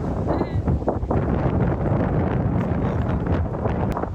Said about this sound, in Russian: Тут такой ветер.